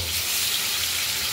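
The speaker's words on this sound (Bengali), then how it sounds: "কাতলা মাছগুলো ভেজে নেব" Katla fish pieces rubbed with salt and turmeric fry in hot oil in a kadai, giving a continuous dense sizzle at close range with no talking.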